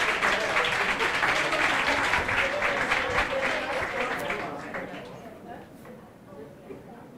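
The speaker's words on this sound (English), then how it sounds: "can we get a final round of applause for this panel" A conference audience at a mining event side session applauds a panel, a full round of clapping that swells, holds and then fades out toward the end.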